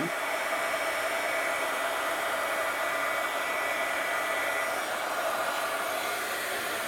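A hair dryer blows steadily and close to dry a reverse-collage art journal page, a constant, even whooshing hum that runs alone throughout.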